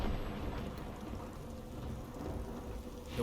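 A rain spell cast over a dry well in Divinity Original Sin 2 brings a steady, fairly loud downpour with rumbling thunder, the rain hissing continuously across the whole stretch.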